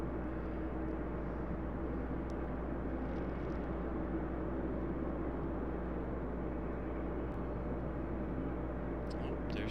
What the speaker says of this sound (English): Little Dreamliner action.